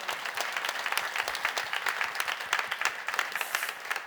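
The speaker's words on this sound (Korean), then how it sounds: "다시 한번 하나님께 박수하겠습니다." A church congregation at a Friday night worship service claps together, a brisk, even patter of many hands that stays steady and fairly close for the whole stretch.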